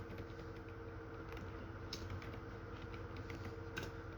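Quiet, steady keystrokes on a computer keyboard as Python code is typed, soft continuous clicking with no talk.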